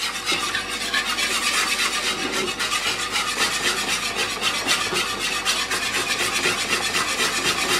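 A spoon scrapes and rubs steadily around a pot of lemon curd on the stove, making a continuous close, gritty stirring sound with no voices.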